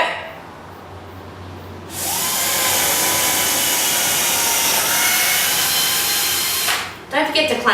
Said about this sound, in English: when you go in with the drill to cut it out